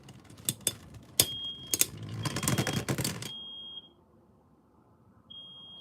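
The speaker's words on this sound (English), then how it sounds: "The fire alarm's going off." A fire alarm goes off indoors, a steady high electronic beep tone sounding in stretches over clicking and rustling, then falling silent and starting again near the end.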